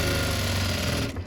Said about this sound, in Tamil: இந்த மாதிரி கீறிட்டு உள்ளே ஒரு டம்மி தையல் போட்டுருங்க.